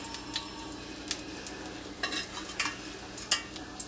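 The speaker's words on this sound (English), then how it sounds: "So we have some oil in there flavored with onions" Oil flavored with onions and garlic sizzles in a pan while venison tenderloin is prepared, a steady broadband hiss broken by scattered spoon-scrape and clink transients, fairly quiet with no voices.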